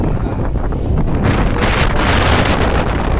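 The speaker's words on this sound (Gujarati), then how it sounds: "પવન છે ને ખતરનાક પવન છે" Strong, dangerous-feeling wind blasts loudly and continuously across the microphone outdoors, a roaring buffet with gusts rising toward the end.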